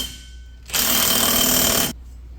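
A power tool tightens a 27 millimeter nut on a Polaris Sportsman ATV wheel hub in one loud, rattling burst of just over a second, with a quiet background before and after.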